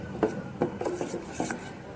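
Coconut being stirred into batter in a pan makes a handful of quiet, close scraping and rubbing strokes at an uneven pace, with no speech.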